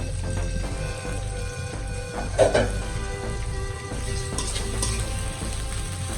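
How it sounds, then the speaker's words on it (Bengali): Onions sizzle and fry steadily in a pan for a colocasia leaf vegetarian dish, a dense continuous crackle with a brief louder flare of spattering midway, no voices. "পেঁয়াজ দিয়ে দিচ্ছি"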